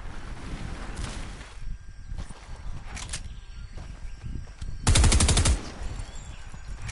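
Rapid automatic gunfire from a PS4 shooter game rattles in dense bursts, loudest in a sustained volley near the end, layered over a continuous game soundscape with no talking.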